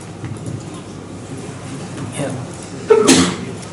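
A single sharp sneeze bursts out near the end after quiet room noise.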